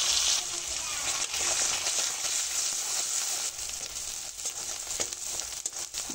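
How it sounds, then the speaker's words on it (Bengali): Spices with ginger-garlic-cumin paste, salt, turmeric and dried chilli powder fry in a pan for ghugni, a continuous crackling sizzle, close and steady, with occasional stirring scrapes. "মশলাটা আমার খুব ভালো করে ভাজা হয়ে গেছে।"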